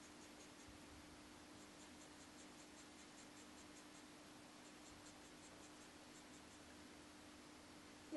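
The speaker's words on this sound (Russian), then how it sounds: "Также я пока проштриховываю достаточно однородно." Pencil hatching on paper during a drawing of metallic surfaces, a soft, steady scratching of graphite strokes that repeats evenly and faintly throughout, with no talk and only a low background hum.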